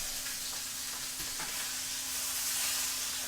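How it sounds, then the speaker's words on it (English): Roast beef sears in a hot pan, giving a steady, close, even sizzle with a faint hum running underneath and no talking throughout. "So make sure you just sear all"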